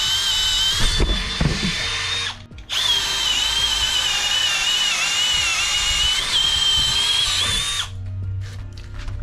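A PUMA PM-245BL 20 V cordless drill whines steadily at high pitch as it bores through wood, with a brief pause and restart partway, then winding down near the end.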